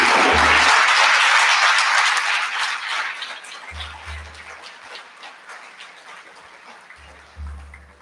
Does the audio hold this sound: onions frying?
no